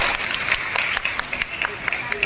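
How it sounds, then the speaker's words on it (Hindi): A crowd at a birth-anniversary celebration of Lokmata Ahilyabai Holkar breaks into loud, sustained clapping in honour of ancestors, a dense patter of many hands with sharper individual claps standing out. "अपने पूर्वजों के सम्मान में जोरदार तालियां बजा दीजिए।"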